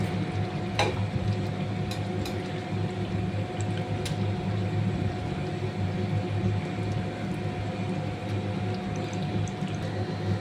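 Boiled lentils going into chicken cooking in a pan, giving a steady, even sizzle with a few faint clicks and scrapes of stirring throughout.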